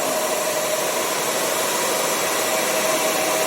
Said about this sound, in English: This is alternator.